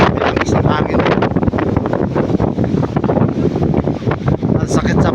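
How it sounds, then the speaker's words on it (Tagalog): Strong wind on a beach buffets the microphone in a loud, continuous roar with constant gusting, while a person talks over it. "So grabe, ang lakas talaga ng hangin dito."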